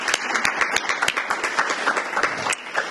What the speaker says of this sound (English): So quick little applause for Hawthorne.